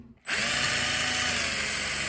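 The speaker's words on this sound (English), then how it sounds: "Keep on drilling." A reversible battery drill spins up and drills steadily into a broken bolt on a car, a loud continuous whine starting abruptly after a brief quiet moment and holding steady.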